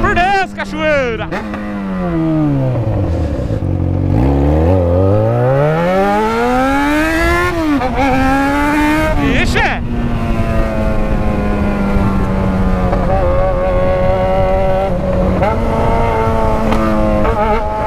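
A Yamaha XJ6 motorcycle revs hard and bounces off its rev limiter, its engine note sweeping down and then climbing in loud whining pitch, then holding a droning high idle with stuttering cuts, very close and dominant.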